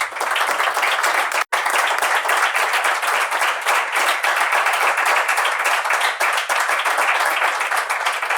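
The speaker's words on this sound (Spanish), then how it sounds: "Un aplauso." Audience at an award ceremony for insolvency administrators breaks into sustained applause, a loud, dense, even wash of many hands clapping nearby, with one brief dropout.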